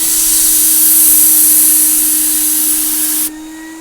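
A Titan Capspray paint sprayer used for refinishing kitchen cabinet doors runs with a loud, steady whine and hiss, then the hiss drops off abruptly near the end while the motor hum continues.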